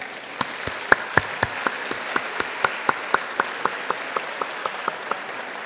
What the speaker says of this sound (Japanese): 会場の皆様、大きな拍手をお願いいたします